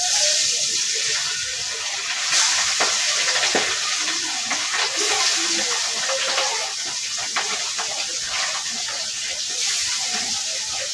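Pabda fish sizzles in hot oil with salt and turmeric in a wok, a steady close hiss with scattered crackles lasting throughout.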